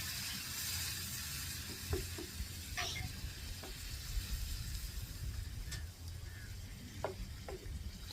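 Kannur-style chicken curry masala sizzles in a pot after hot water goes in, a soft steady hiss with a few faint stirring clicks, close and without talk.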